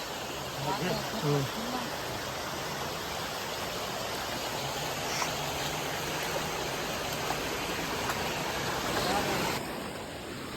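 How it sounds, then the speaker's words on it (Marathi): A strong stream current rushes steadily around a fish trap set in a forest brook, a loud, continuous broadband wash that holds level for the whole stretch, with a brief voice-like sound near the start. "पाण्याची धार जास्त आहे"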